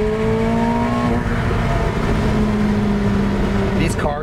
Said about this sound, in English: And now we can really hear the engine.